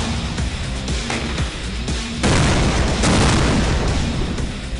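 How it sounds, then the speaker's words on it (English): Leopard 2SG main battle tanks firing DM78 rounds at a live-firing competition, heard as loud, sustained booming blasts with rumbling reverberation, a heavier burst arriving partway through, no talk. "Each team only has 6 shots at the targets, using DM78 tank rounds."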